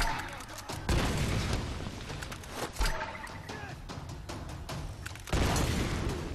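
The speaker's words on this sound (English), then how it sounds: "These grenades suck in this game, man." Grenade explosions in the action game Tomb Raider (2013) during a combat firefight. Several loud booming blasts and bursts rise over dense, continuous battle noise.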